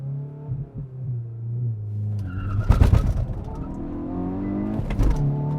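A 2022 Hyundai i20 N hot hatch revs its engine at a standing launch, a held drone climbing in pitch, then bursts of tyre and drivetrain noise as it leaps away, with a second surge near the end.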